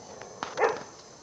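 A dog lets out a single short bark at a distance, faint against a quiet background, amid neighborhood dogs fighting over a female dog in heat.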